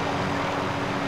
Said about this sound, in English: We got a whole helicopter.